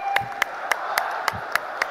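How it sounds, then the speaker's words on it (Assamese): Applause from an audience welcoming Amit Shah at a rally, with sharp claps landing in a steady rhythm about every quarter second, loud and close, over a continuous crowd murmur. "সকলোৱে এবাৰ থিয় হৈ তেখেতৰ কাৰণে এটা হাত চাপৰি 2 মিনিট সময় এটা হাত চাপৰি বজাব সকলোৱে জোৰদাৰ।"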